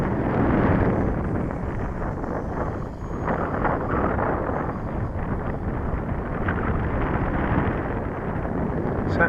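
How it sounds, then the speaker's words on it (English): Gusty wind buffets the microphone at an RC model flying field, a loud, continuous low rumble that swells and dips with the gusts. "Oh, it's just too gusty low down for anything."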